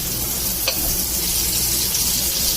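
Three big prawns frying in oil in a pan over low heat, giving a loud, steady sizzle with a brief sharp crackle partway through and no voices.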